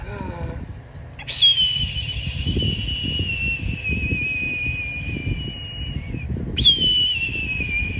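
A voice imitates a red-tailed hawk's call, giving two long, high, descending screeches several seconds apart over a steady rushing background noise.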